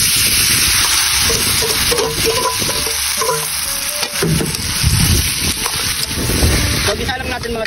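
Sisig mix sizzles loudly in melted margarine in a hot pan, a dense continuous frying hiss with stirring scrapes and clatter, and someone speaks briefly over it.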